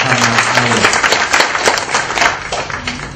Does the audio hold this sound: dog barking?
no